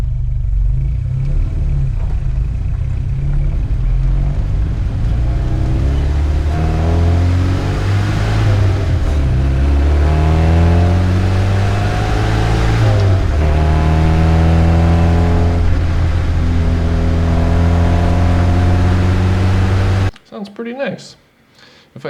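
A car's engine drones and revs continuously in a cinematic driving sequence, rising and falling in pitch as gears shift, loud and close throughout before cutting off abruptly near the end.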